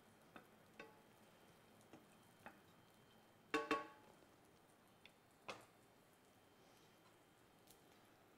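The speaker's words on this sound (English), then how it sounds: "you're going to get a nice, sizzle when it's on the stove" Diced pancetta frying in a pan on the stove gives a quiet, steady sizzle, with sparse sharp clicks and a louder clatter partway through as it is stirred.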